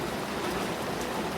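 Steady rain falls over fields and grass in the countryside, a dense continuous hiss of drops at an even loudness, with no voices.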